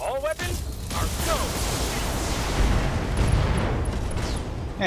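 Mech weapons fire in BattleTech as a sustained, loud barrage of booms and rumbling blasts, with a voice speaking briefly at the start over the din.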